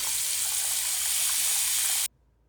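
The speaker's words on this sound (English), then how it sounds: "Turn the water back on, check for leaks," Water gushes from a Delta faucet turned back on after a drip repair, a loud, steady hiss of running flow into the sink that cuts off abruptly near the end.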